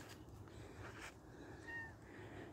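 A short, faint meow rises above steady low background noise outdoors, a single thin cry from a cat.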